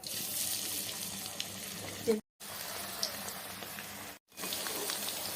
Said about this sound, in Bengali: এই যে পকোড়া ভাজার জন্য তেলটা ঢেলে দিলাম বন্ধুরা চলেন পকোড়াগুলো এক একে ছেড়ে দিই